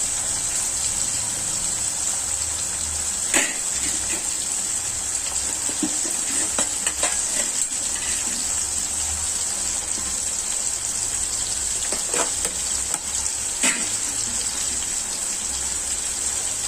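Onion and tomato fry in a pan for a sardine fish curry, giving a steady close sizzle with a few sharp clicks from stirring scattered throughout. No one speaks.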